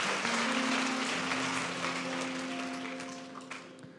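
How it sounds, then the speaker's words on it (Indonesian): A church audience applauds in a broad, continuous patter of many hands over sustained keyboard tones, gradually fading as the clapping winds down. "Kasih tepuk tangan untuk mereka semua, luar biasa."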